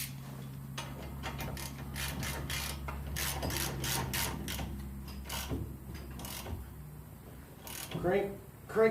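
A ratchet cranks a fastener down during a CV axle replacement on a 1997 Honda Civic. Close, repeated clicking strokes run under steady mechanical hum, with a louder clatter at the end.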